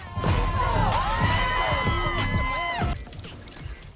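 A large New York crowd in Times Square cheers and shouts loudly for a live performance, a dense sustained roar with whoops and high voices that fades sharply near the end.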